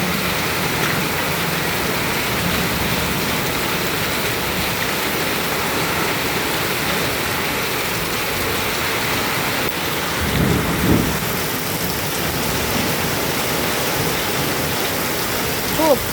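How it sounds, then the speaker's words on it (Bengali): Heavy downpour on a Thursday in Durgapur, a dense, loud, steady roar of rain hitting surfaces that fills the whole stretch, with a brief low rumble partway through. "মুষলধারে দেখুন বৃষ্টি পড়ছে।"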